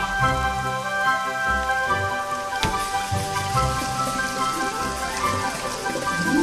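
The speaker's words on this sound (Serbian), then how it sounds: "to je čarobna kiša i možemo da dišemo pod vodom" Magic rain falls in a children's cartoon, a soft, steady patter of drops mixed under gentle tonal music.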